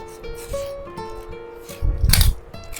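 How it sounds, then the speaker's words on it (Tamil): Scissors or a blade cutting craft material at close range, light rasping strokes that end in a louder rustling burst of handling, with no voices. "அப்படின்ட்டு நம்ம இதை கட் பண்ண போறோம்"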